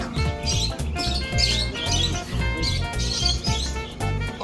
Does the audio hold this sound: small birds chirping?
yes